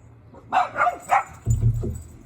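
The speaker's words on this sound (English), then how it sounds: "you listen to the dogs bark" A few dog barks, close and fairly loud, in two short bursts with brief gaps between them.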